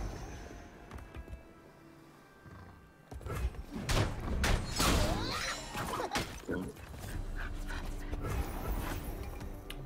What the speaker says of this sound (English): My, my dog's down down here underneath my chair.